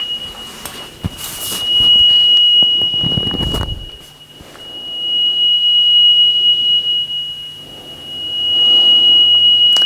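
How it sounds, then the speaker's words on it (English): A steady 3 kHz calibration tone from a 45-year-old Amstrad 7070 cassette deck, a continuous high whine whose loudness swells and dips, with some rustling and handling noise early on. "I believe the first frequency is 3 kilohertz. Calibration tone."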